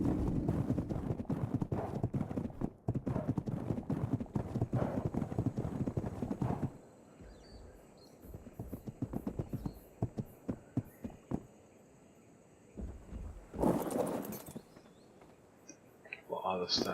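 Horse hooves clip-clop in a medieval role-playing game, a steady run of close, loud, rapid beats for the first seven seconds, then sparser scattered steps with a brief louder burst near the end.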